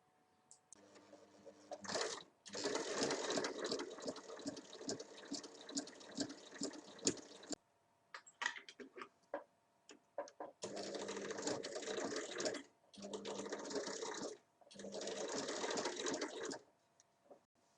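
A sewing machine stitches the hem of a summer dress in several runs of rapid rhythmic whirring, with short quiet pauses between them. The sound is close and moderately loud.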